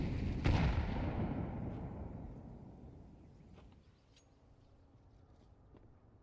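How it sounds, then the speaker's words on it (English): A grenade blast in a competitive video game match, one loud, close boom whose rumble slowly fades over several seconds, followed by faint scattered game sounds. "Nades will continue to fly in."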